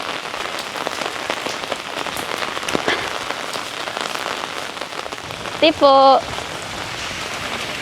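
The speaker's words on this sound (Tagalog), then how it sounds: "Ang lakas ng ulan." Heavy rain falls at night on Boracay, a dense, loud, constant wash of drops hitting surfaces outdoors, with a brief voice and a short electronic chirp near the end.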